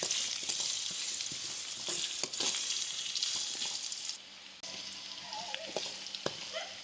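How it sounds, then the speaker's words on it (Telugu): Thinly sliced onions sizzle and crackle in hot oil over mustard seeds as a spoon stirs them, with occasional sharp scraping knocks against the pan throughout. "అవి వేగాక 4 ఆనియన్స్ సన్నగా కట్ చేసి వేసుకోవాలి. కలుపుకుంటూ వేయించుకోవాలి."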